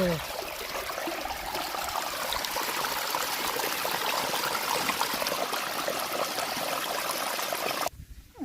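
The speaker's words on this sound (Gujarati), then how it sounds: "આ પાઇપ થઈ અને જીવામૃત અહીંયા જાય છે. આ જોઈ શકો જીવામૃત આવી રહ્યું છે અહીંયા." Jeevamrut liquid fertilizer, mixed with water, pours steadily from a pipe on a Gir natural cow-based farm, a continuous close rushing gush that stops abruptly near the end.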